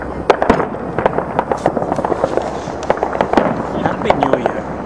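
New Year fireworks burst over the San Antonio Riverwalk in 2011. Rapid sharp pops and cracks crowd together in quick succession, with voices of onlookers talking underneath.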